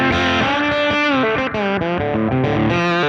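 A lap steel guitar runs through a spring reverb tank, amp and overdrive, playing loud, sustained, gritty sliding notes and chords that glide between pitches with a continuous reverberant wash for about three seconds.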